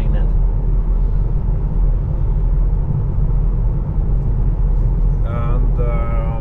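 A 2024 Tesla electric car cruising on a motorway, a steady low road rumble and tyre noise filling the cabin throughout, with brief higher tones near the end.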